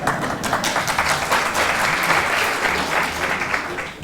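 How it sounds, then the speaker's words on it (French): Audience applause at a school eloquence contest, dense and sustained clapping from a large room that stays loud and even before dipping slightly at the very end. "vos applaudissements ce soir seront la première source de chaleur, donc ne soyez pas avares en applaudissements"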